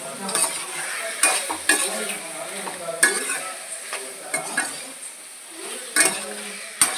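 Chicken coated with turmeric is stirred in a sizzling pan: a spoon scrapes and clinks in irregular strokes over a steady, close frying hiss.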